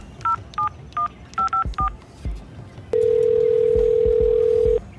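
A phone number dialed on a telephone keypad: six quick touch-tone beeps, a short pause, then a long steady ringback tone, with faint background noise.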